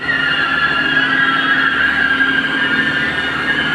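A Range Rover is dragged by a tractor, its tyres scraping and grinding with a steady, loud, high-pitched friction squeal over a low rumble, continuous and close.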